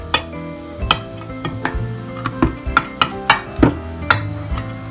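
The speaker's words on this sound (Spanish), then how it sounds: "Y vamos a abrir la lata con una cuchara." A spoon is worked against a can of lasagna ingredients in a kitchen, giving a series of sharp metallic taps and scrapes at an uneven rhythm, close and moderately loud.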